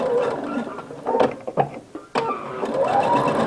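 A sewing machine runs in short bursts as it stitches and back-stitches a pillow seam, close and moderately loud, with brief pauses between runs.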